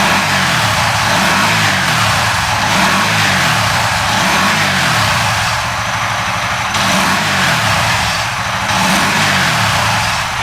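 A motorcycle engine fitted with a Nology ignition coil runs loud and close, its exhaust pulsing in repeated rising-and-falling revs over a steady idle-like drone.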